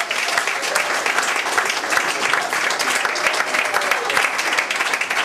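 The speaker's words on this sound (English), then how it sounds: "Huge round of applause for Dr. Cate Fosl." Audience applause after a speaker introduction at a social justice history panel, a steady dense wash of many hands clapping throughout, fairly loud and sustained with no voices over it.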